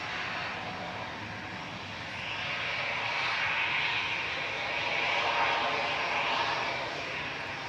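An airplane at Manchester Airport gives off a broad, steady engine roar. It swells gently and holds at a distance, with no talk over it.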